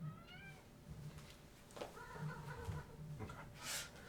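A pet cat meows faintly indoors, several short, rising cries scattered across a few seconds against quiet room noise.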